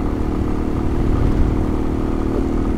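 A motorcycle riding on a soft, sandy road in Namibia gives a steady mid-pitched engine drone with low rumble and faint clatter, loud and close throughout, with no speech.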